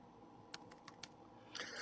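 Several crisp computer keyboard keystrokes tapped one at a time at a close, quiet level, followed by a brief burst of faster typing at the end.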